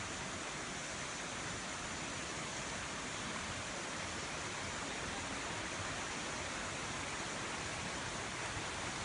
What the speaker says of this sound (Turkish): suyun sesini, kuşların sesini herhalde duyuyordursunuz yani.